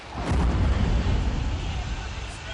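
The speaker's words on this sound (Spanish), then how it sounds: "Transcurren 22 minutos hasta que el sonido de la explosión se escucha en Salt Lake City." A deep, rumbling volcanic eruption boom with a sudden onset, then a sustained low roar that slowly fades, heavy in the bass.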